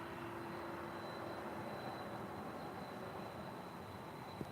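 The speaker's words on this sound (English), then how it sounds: "And the Korean Air A380 now taxiing to the gates." A Korean Air Airbus A380 taxiing to the gates at LAX, a faint, steady distant engine rumble and whine, constant and unbroken throughout, with no talking.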